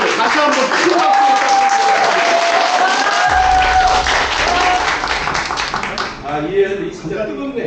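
Loud, sustained applause from an audience during a university field trip to Yeosu-Suncheon 10·19 historic sites, with cheering and a few voices calling out over the clapping.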